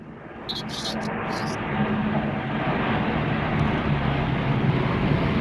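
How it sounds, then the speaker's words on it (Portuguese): Airplane flying over a home in Brazil, a broad, steadily swelling roar of jet engine noise that grows louder across the clip, with faint talk in the background. "Dessa vez é aqui. Avião, gente,"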